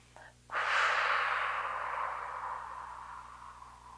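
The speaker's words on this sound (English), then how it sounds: "We're using our breath to help us, so you exhale, connect to the abdominals" A single long, breathy exhale during a pilates mat exercise, close and soft, rising quickly after a brief inhale and slowly fading over several seconds.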